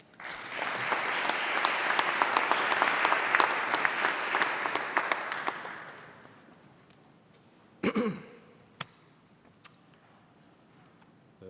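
An audience at a Regent's University London graduation ceremony claps warmly to welcome alumni speaker Kevin Korgba. Dense applause fades out after about six seconds, leaving a quiet room with a few isolated coughs and small noises.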